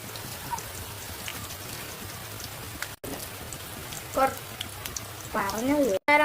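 Garlic and chili sizzle in hot oil while a pulissery of plantain and cucumber is cooked, a steady rain-like crackle running throughout, with a voice briefly heard near the end.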